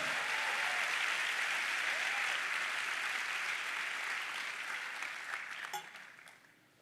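A church congregation at a Wednesday evening service applauds steadily for several seconds, dense and close, then the clapping thins and fades away.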